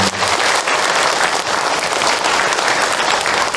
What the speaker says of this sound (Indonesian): Tepuk tangan untuk Ahilman.